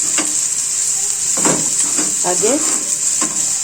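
Curry leaves crackle and sizzle in hot oil, a steady frying hiss with a few sharper bursts as they are stirred in, close by, with a brief spoken word over it.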